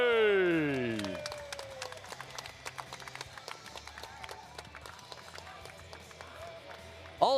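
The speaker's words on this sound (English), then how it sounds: "Let's give one more round of applause for the lightweight champion, Angelo the Fox Volpe." Crowd applause at a kickboxing gala in the Ancient Theatre of Plovdiv: after a short voice, dense clapping fills a few seconds with sharp scattered claps, steady and fairly loud in an open-air setting.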